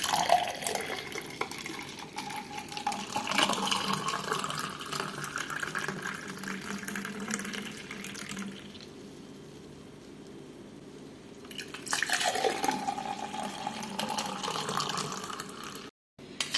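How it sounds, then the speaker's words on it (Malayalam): Mint lime juice trickles and splashes into a glass through a strainer, with a quieter stretch in the middle before the pouring picks up again. "നമുക്കിതിനെ അരിച്ച് ഒരു ഗ്ലാസ്സിലേക്ക് ഒഴിക്കാം"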